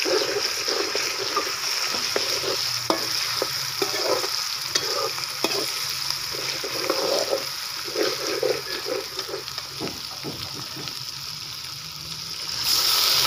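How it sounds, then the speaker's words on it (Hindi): Water is poured into a pan of sizzling onion masala with cardamom, cumin and ginger-garlic paste for dhaba-style chana dal, giving steady frying hiss and splatter with scattered stirring clinks that stay close and fairly loud throughout. "थोड़ा सा पानी डाल लेंगे ताकि प्याज अच्छी तरीके से उसमें डाल जाए"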